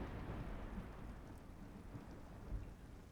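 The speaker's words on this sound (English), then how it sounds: "oh, it's raining." In the video game Cubic Odyssey, a rainstorm hisses steadily with low, rolling thunder rumbling beneath it, a continuous, quiet wash of sound with no voices.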